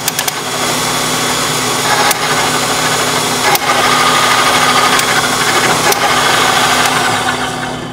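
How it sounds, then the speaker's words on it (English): Gaggia MDF coffee grinder running steadily with a loud, continuous motor whir and a faint rising tone as its burrs begin to touch, with a few sharp clicks along the way and no talking. "that noise, that pitch change that you heard was the burr starting to touch"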